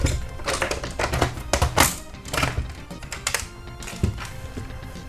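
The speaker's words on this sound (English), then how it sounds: "Now let's disassemble our SNES. Okay, let's remove the screws." Screws being taken out of a Super Nintendo (SNES) console, a run of close, sharp clicks, taps and small thunks from a screwdriver and plastic casing, irregular and alone with no talk.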